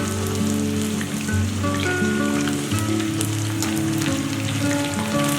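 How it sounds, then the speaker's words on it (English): Steady, dense sizzling and crackling of chicken deep frying in hot oil in small batches, continuous and fairly close, with no talking. "Continue frying in small batches until all the chicken has been cooked."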